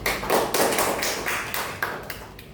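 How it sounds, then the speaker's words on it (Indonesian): Students in a classroom give a short round of applause, a dense patter of hand claps at close range that starts strong and slowly thins out over a couple of seconds, with no talking over it. "kita beri aplaus dulu untuk Agni"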